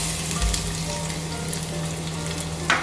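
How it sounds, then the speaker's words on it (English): Garlic sizzling in hot cooking oil for a Tibetan-style stir-fried cabbage, a steady close crackling fry with a brief stir near the start and a sharper burst toward the end. "Now I'm gonna add garlic"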